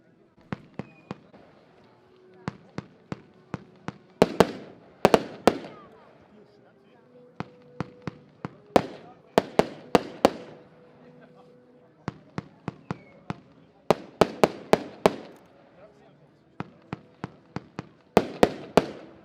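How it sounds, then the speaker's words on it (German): A Mastercross 30-shot firework battery fires at a fireworks preview show, launching rapid volleys of sharp bangs and crackles in irregular bursts with short pauses between them. "Batterie Mastercross, 30 Schuss"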